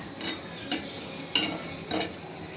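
Chilies and garlic dry-roasting on a griddle without oil: low soft hiss broken by several scraping strokes and light metal clinks of a spatula stirring, close and quiet.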